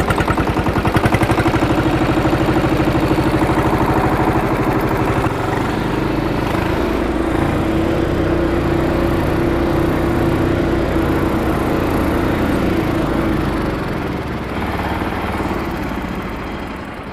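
A Scout T-18 18 hp diesel mini tractor engine runs steadily nearby while reversing to park, a constant mid-pitched chugging drone that eases slightly in level toward the end.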